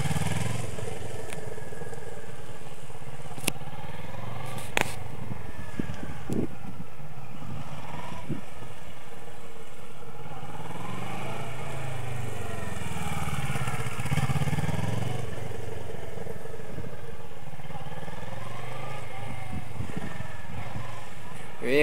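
A motorcycle rides and accelerates during one-handed turning practice, its engine rising and falling in repeated revving sweeps at moderate distance while someone talks over it.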